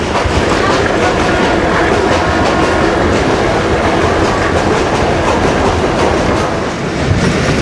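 Kohat Express passenger train on the Rawalpindi to Kohat line, heard from inside a carriage: a steady, loud rumble with rhythmic clickety-clack of wheels over rail joints, continuous throughout with a faint voice at moments.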